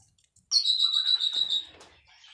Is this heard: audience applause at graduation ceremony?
no